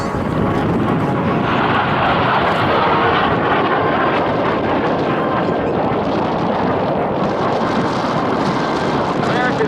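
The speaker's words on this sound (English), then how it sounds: "But this is the Sabre jet." F-86 Sabre jet passing at an air show, a loud, continuous broadband roar of jet engine and rushing air filling the whole stretch, steady and close with slight swells as the aircraft moves.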